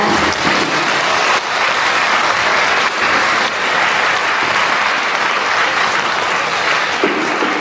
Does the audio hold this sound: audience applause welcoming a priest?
yes